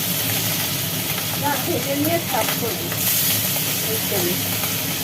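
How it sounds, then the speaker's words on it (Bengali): Pieces of hilsa fish frying in a hot wok keep up a loud, continuous sizzle and spattering hiss throughout, with faint kitchen clatter. "ইলিশ মাছ মাছটা রান্না হবে তো তাই মাছটা ভাজা হচ্ছে"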